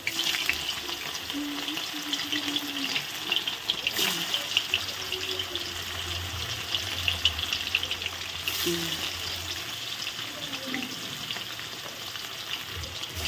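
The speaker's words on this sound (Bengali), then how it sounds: "এখন এগুলো ভাজবো আগে তারপর বেটে নেব" Potato, tomato, chili, cumin and ginger frying in oil for a vegetarian dish, a steady close sizzle with stirring scrapes throughout and a couple of sharper clatters.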